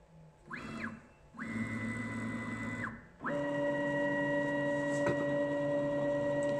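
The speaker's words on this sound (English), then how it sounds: "The machine's going to go to its tool change position" A CNC router traverses to its tool change position with stepped motor whines that rise in pitch, pause, and settle into a steady tonal hum, quiet and mechanical with no talk.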